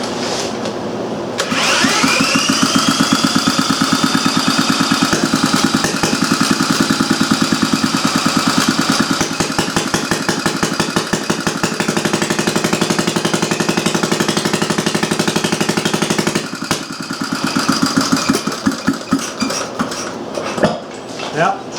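A Briggs & Stratton Model A engine fires up and runs steadily for most of the span with a fast, even chuffing beat, loud and close, then stumbles and picks back up near the end.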